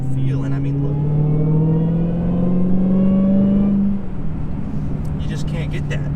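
A supercharged 2022 Dodge Challenger Hellcat Redeye engine roars steadily as it pulls, its deep drone rising in pitch for several seconds before dropping back to a lower, constant rumble.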